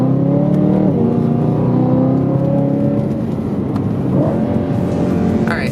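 BMW E92 M3 being driven, heard from inside as a loud steady engine drone with rising and falling rev tones and road noise, no talking.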